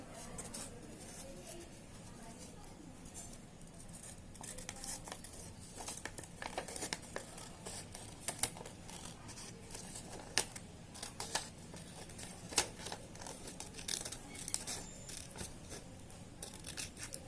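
Scissors cutting a corner angle out of a paper quadrilateral for a classroom geometry activity, with close, irregular snips and rustling paper crinkles over a steady low hiss, growing busier toward the end.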